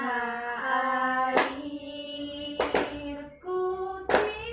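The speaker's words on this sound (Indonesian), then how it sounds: "Ayo sambil tepuk tangan." A class of children sings the patriotic song "Tanah Air" in a classroom, with three sharp, loud group hand claps landing at steady intervals over the sustained singing.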